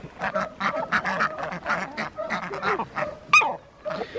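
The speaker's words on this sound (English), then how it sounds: "Hungry chickies." Hungry chickens crowd a feed bucket on a small homestead, several birds giving repeated loud calls close by, with one sharper squawk near the end.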